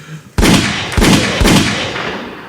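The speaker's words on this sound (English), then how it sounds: "hit the gunshot" A gunshot sound effect played on a podcast: three sharp, loud bangs roughly half a second apart, each trailing off with a booming echo, no talk over them.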